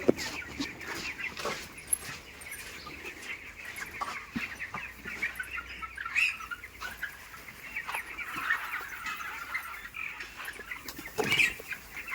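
Chickens cluck softly here and there in a poultry shed, somewhat distant, over a steady whirring hum, with an occasional sharper squawk.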